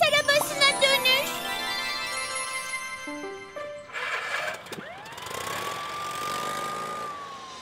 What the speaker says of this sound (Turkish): Morphle, bir polis arabasına dönüş